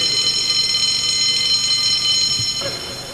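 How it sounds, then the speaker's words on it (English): A fire alarm blares during a drill in a hospital rehabilitation ward, a loud, steady electronic tone that keeps sounding, with a brief thump and shift near the end. "Then it was into action as the fire alarm sounded."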